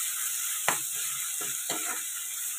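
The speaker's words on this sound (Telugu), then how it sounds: "ఇప్పుడు ఇందులోకి టమాటా ప్యూర్ వేసుకున్నా." Tomato puree frying in a pan for a fish pulusu, with a steady sizzle and a few distinct scrapes of a spoon stirring through it, close and without talk.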